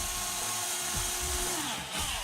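A power drill bores through a drone frame in the middle of a build, a steady close whine with small pitch dips as the bit works through the material, running without pause.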